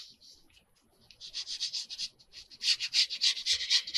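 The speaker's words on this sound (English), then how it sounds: "and then just glue that flap down." Paper rubbing and pressing as a glued flap on a 12x12 paper journal cover is smoothed down, a series of close, rhythmic dry strokes with a quiet pause in between.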